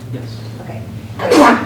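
A single loud, close sneeze bursts out at the end after a few brief spoken words, heard in a courtroom during a trial.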